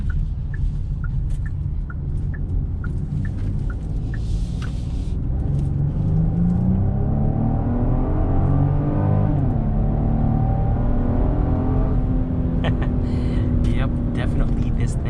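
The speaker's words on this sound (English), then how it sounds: "Let's go ahead and hop on the highway and see how this G70 does." A 2022 Genesis GV70 SUV accelerates up a highway on-ramp, its engine note climbing in pitch through the gears with a steady rising drone and road rumble, heard from inside the cabin.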